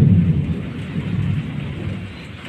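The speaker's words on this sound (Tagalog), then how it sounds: "Agoy, kumukulog." Low thunder rolls from a distance during a storm, a broad muffled rumble that is strongest at the start and slowly fades, with a faint hiss of rain behind it.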